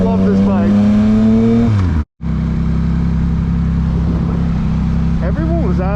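A 2023 Yamaha MT-09 motorcycle accelerates hard in power mode 1, its engine climbing through rising revs, cutting briefly at a shift, then pulling again loud and close, with wind noise around it.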